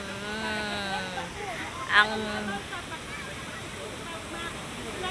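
A steady rushing roar of a waterfall fills the background while a person speaks over it.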